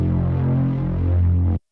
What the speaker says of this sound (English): That's your proverbial Reese vibe.